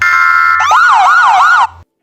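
A siren sound effect used in a video edit: a steady electronic tone shifts into a loud, close wailing siren that sweeps up and down about three times before cutting off abruptly.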